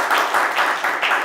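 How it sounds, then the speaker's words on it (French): Audience applause in a French sports-talk broadcast studio, a short burst of clapping that comes in quick rhythmic pulses, fairly loud and close, with no talk over it. "Oui, ça applaudit."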